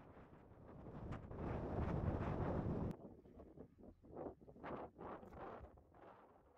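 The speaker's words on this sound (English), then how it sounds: "It's a very windy day today" Strong wind batters a microphone on a windy day outdoors near a hilltop landmark east of Edinburgh, Scotland, a loud roaring rumble that then breaks into irregular gusty bursts, faint overall with no voices.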